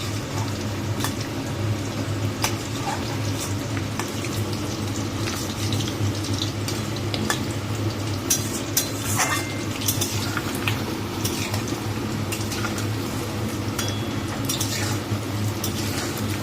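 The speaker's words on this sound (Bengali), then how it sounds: "লাল লাল করে ভাজা হয়ে গেছে, একদম ধিমি আঁচে ভাজছি।" Food frying gently in a pan over low heat, a steady soft crackle with scattered clinks of utensils against the pan, continuous and close, no voices.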